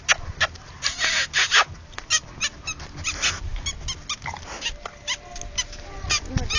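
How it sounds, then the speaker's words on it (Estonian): A dog barks in repeated, irregular sharp bursts at an outdoor Midsummer (Jaanipäev) night party, fairly loud and close. "Niimoodi koerad reageerivad."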